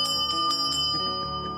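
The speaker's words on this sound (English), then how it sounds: "It's called the victory bell." Bright metallic victory bell rung after cancer treatment, several quick strikes leaving sustained overlapping tones that ring on and slowly decay, close and clear with no talking.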